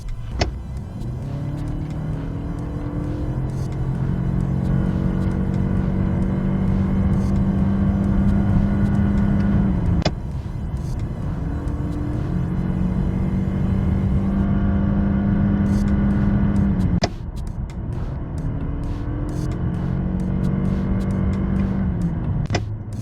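A new fourth-generation Toyota Camry hybrid accelerates hard at highway speed, around 130 to 140 km/h, its engine droning and howling in long rising sweeps that break off and restart, heard from inside the cabin with no talk.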